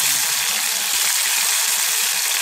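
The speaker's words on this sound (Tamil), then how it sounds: "பூண்டு கொஞ்சம் பொரியட்டும்." Garlic fries in hot oil for an onion-free fish curry, a steady close bright sizzle with faint crackling pops throughout, no talk.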